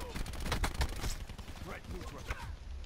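Gunfire in the shooter Black Ops 4: several sharp close shots in a rapid cluster early on, then scattered quieter cracks amid game noise.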